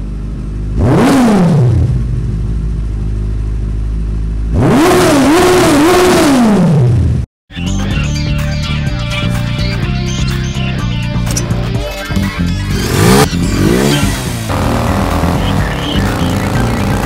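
Loud Kawasaki heavy motorcycle engine revving repeatedly, with rising and falling revs in two bursts, a brief cut, then continuous throttle blips and engine roar close to the microphone.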